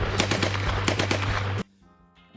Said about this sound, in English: it sounds similar to the real rate of fire on the real MP-40